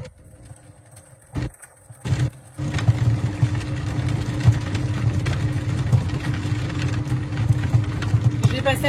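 A Monsieur Cuisine food processor fitted with the Wunderpeeler disc runs at speed 2, a steady loud motor whir with a low rumbling hum that starts after a few brief bursts and holds for several seconds.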